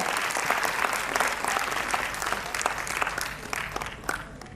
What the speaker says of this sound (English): Audience, a round of applause it calls for.